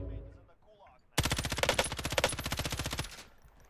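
Rapid automatic gunfire in Call of Duty Warzone, a sustained burst of about two seconds of fast, evenly spaced shots, loud and close, following a quieter moment.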